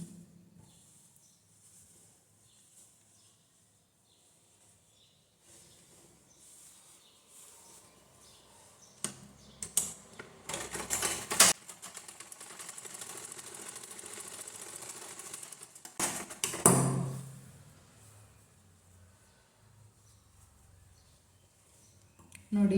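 A sewing machine stitches a blouse in two loud, close whirring bursts separated by a brief pause, set among quiet stretches with soft handling noise and faint talk.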